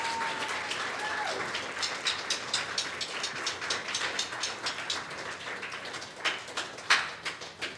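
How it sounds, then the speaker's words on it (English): A church congregation applauds costumed participants during a service, scattered clapping heard from a distance that grows into sharper, closer claps toward the end, with no talking. "let's give them a round of applause"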